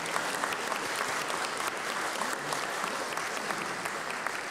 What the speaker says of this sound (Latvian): Aplausi mums visiem.